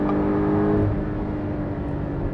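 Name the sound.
Porsche 718 Cayman/Boxster GTS accelerating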